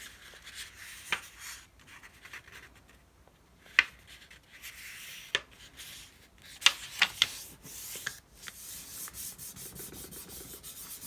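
Paper with a drawing on it is folded and rubbed by hand, giving quiet, close scratchy rubbing strokes with a few sharper scuffs spaced irregularly.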